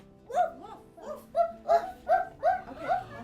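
A human voice imitating a dog barking, a series of about seven short woofs and arfs in an uneven rhythm, close and clear, during a children's puppy storytime reading.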